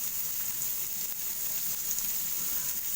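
Chopped onion sizzles steadily in hot oil with cumin for egg rice, a continuous soft crackling hiss with no talk over it.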